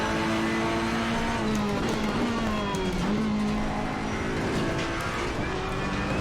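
A race car engine in Assetto Corsa Competizione on PS4 drones steadily and loudly, its pitch rising and dipping through gear changes as the car drives on without pause.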